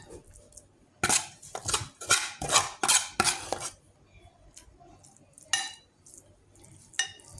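A spoon scrapes and presses ground meat sauce against a pan for macaroni béchamel, a run of loud clattering strokes followed by sparser, quieter scrapes, no talking.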